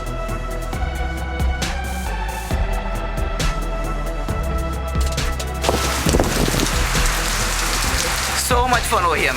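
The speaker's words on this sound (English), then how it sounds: "This is the first rain of Rajkot and we was not expecting such type of heavy rain" Heavy rain pours down in Rajkot during a Royal Enfield Classic 350 ride, a loud, dense, continuous downpour over a steady low rumble, with rain drumming harder toward the end.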